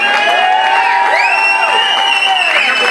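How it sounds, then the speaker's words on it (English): Wedding guests cheer and whoop in a loud, continuous burst, with high excited voices and some applause blended into the crowd noise. "I'd like to first start by giving Lauren a round of applause"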